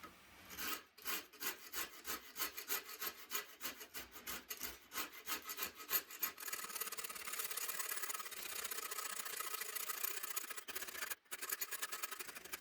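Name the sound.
Shinto rasp carving wooden guitar neck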